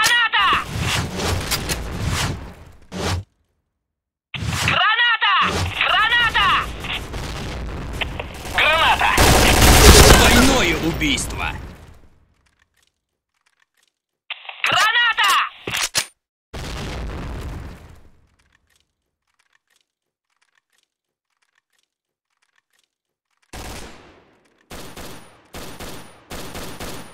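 Gunfire and explosions in the video game Point Blank: dense bursts of automatic fire and booms come in loud clusters, with a long heavy blast in the middle and short scattered shots after long silent gaps.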